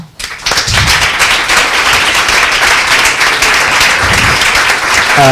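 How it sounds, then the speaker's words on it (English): A large audience applauds the local organizing committee at a young researchers' meeting, with dense, steady clapping filling the room from start to finish. "So I ask you a very large applause."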